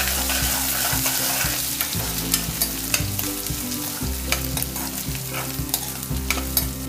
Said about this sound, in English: Add 1 tablespoon of ginger paste or grated ginger and 1 tablespoon of garlic paste and saute till the raw aroma diminishes